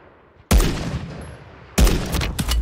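Two loud, close gunshot blasts ring out in a video game, about a second apart, each with a long echoing tail, as from sniper fire.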